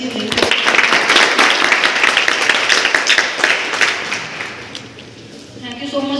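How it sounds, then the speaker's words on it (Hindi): Audience applause fills a hall at a Global Skill Parks orientation program in Bhopal, with dense, loud clapping that holds steady for several seconds before thinning out as a voice begins speaking. "तालियां बजा दीजिए।"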